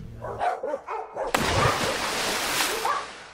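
Dogs bark at a dog ranch with dog parks, a few muffled barks up front, then a loud broad whooshing rush that buries most of them, with occasional barks poking through.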